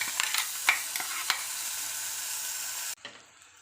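Onions fry in a pan for a cashew chicken curry, a bright continuous sizzle with a few spatula clinks early on, cutting off abruptly near the end to a quieter background.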